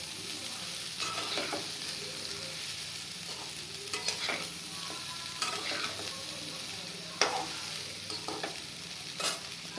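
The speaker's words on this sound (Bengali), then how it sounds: "এবারে কফি আলুটা ভাজা ভাজা হবে" Small pieces of cauliflower and potato fry in a pan, a quiet, steady sizzle broken by sharper scrapes and clacks as a spatula stirs them every second or two, with no talking.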